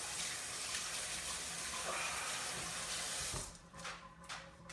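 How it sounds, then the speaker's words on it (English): A kitchen sink tap runs while hands are washed under it, a steady hissing stream of water that cuts off partway through, followed by a few faint drips and handling sounds. "I gotta wash my hands now."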